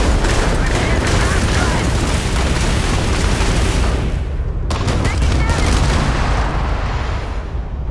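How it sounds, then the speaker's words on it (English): In Starfield, a spaceship's KE-49 cannons fire in heavy rapid booms, a loud dense barrage, briefly cutting out before resuming with more blasts. "Strafing pattern engaged. KE-49 cannons unleashed."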